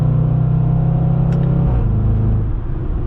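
A Range Rover SVR engine in sport mode with manual shifting: a loud, close rumbling drone that holds steady, then drops abruptly in pitch at a quick gear change and carries on lower.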